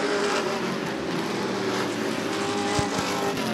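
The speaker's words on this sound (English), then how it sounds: "Around goes John Featherston in the 47" Sportsman class race cars at Rockford Speedway, a short oval track, give a steady loud engine roar as the field laps by, with a continuous drone and a few low thumps near the end.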